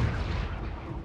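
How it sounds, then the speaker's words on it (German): A mortar fires in a video game, giving a muffled, low boom that rolls out over just over a second at moderate loudness, with no voices over it. "Und noch zwei Schuss aus dem Mörser."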